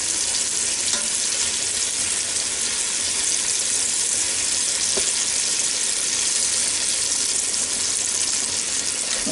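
Parsnips cook in a Ninja Foodi with a loud, continuous sizzle and crackle of frying that holds steady throughout, with no voices.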